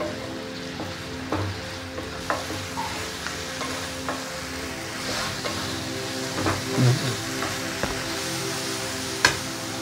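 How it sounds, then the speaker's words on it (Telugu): Chicken 65 stirred and tossed through sauce in a pan, a steady close sizzle with repeated scraping strokes and clinks of the spatula, no talking. "సాసెస్ అన్ని దగ్గర అయ్యేంత వరకు చికెన్ని కలుపుకోవాలి."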